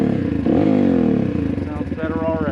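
Honda CRF230F dirt bike engine with a lightened flywheel revving quickly up and down nearby, a rough mid-pitched buzz rising and falling within a couple of seconds.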